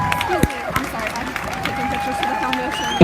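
Audience applauds chefs, sponsors and volunteers at a charity event, a steady wash of clapping and crowd noise running throughout, with a faint tone held underneath.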